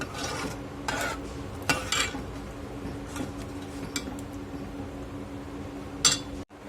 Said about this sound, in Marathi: आपण यामध्ये राजमा घालून घेणार आहोत आणि छान याला मिक्स करून घ्यायचं आहे